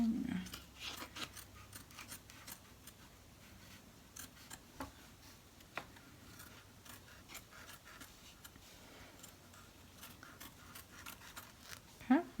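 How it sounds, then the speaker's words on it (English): Scissors trimming excess fabric right next to the stitch lines of an in-the-hoop embroidered pumpkin zipper bag: repeated quiet snips at irregular intervals, close by, over a faint background. "I just hold the outside of the fabric up and cut right next to the stitch lines"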